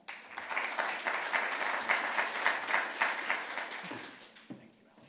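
An audience at a housing policy summit breaks into warm, steady applause to welcome a speaker to the stage. The clapping holds for several seconds, then thins out and stops.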